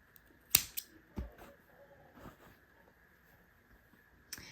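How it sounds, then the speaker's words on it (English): Scissors snip through a crochet yarn tail, giving one sharp close cut followed by a few quieter clicks and handling taps in an otherwise quiet room. "then I'm gonna just cut this tail."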